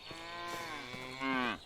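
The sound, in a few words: cattle mooing in video game Medieval Dynasty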